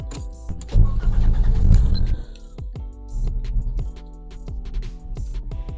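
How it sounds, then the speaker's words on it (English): A BMW E34 engine cranks and catches with a loud burst, then settles into a steady idle marked by regular ticking pulses, close and alone. "I'm going to start the engine and hope for the best."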